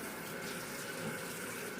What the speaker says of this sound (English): run my bowl under hot water